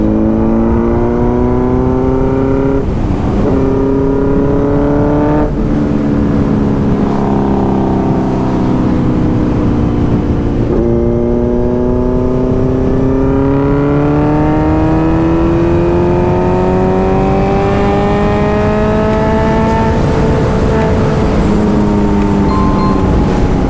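A Kawasaki Z900's inline-four engine revs through rising and falling pitch sweeps, loud and close, holding strong and steady for over twenty seconds with no talking.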